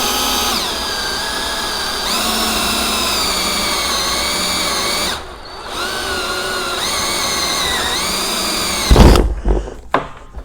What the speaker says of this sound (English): I'm just going to go ahead and drill this one